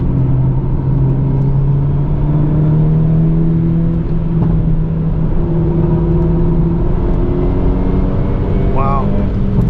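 A modified 2022 Hyundai Elantra N with a 6-speed manual accelerating hard out of a corner on a race track: loud, continuous engine drone climbing steadily in pitch, heard from inside the cabin.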